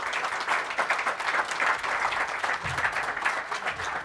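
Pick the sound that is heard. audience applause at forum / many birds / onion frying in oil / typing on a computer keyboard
audience applause at forum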